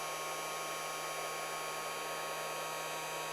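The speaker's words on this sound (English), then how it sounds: "let's turn on my heat gun. The low fan setting is usually good enough." Heat gun blowing steadily on its low fan setting while shrinking tubing on a fly line, a constant close airy whoosh with a faint electrical hum underneath.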